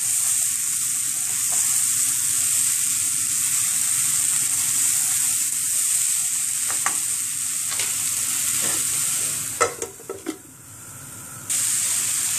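Food stirred in a pan with a steady loud sizzle and frying hiss, scraping stirs running throughout and a few sharp clinks and a brief dip near the end, no talk.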